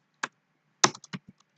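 A handful of crisp computer keyboard key taps, one isolated press followed by a quick irregular cluster, close and clear in a quiet room.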